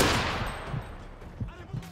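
Enemy automatic gunfire in a Modern Warfare 3 Spec Ops mission, with a rapid burst of shots that quickly tails off and a few scattered distant cracks after it.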